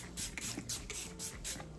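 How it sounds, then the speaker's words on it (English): Several short hissing bursts of Dior Forever Perfect Fix setting spray, misted over the skin in a quick, evenly spaced series, close and fairly soft. "Take a little bit of my Forever, this is the Perfect Fix. I'm going to take a little bit and we're going to spray just a little bit"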